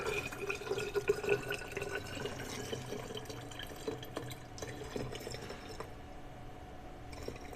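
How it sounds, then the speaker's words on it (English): Aloe vera juice being poured into 99.9% isopropyl alcohol in a measuring container, a faint steady trickle and dripping with light splashes throughout. "now we're going to go ahead and add the aloe vera gel, or liquid juice, up to the 500 point"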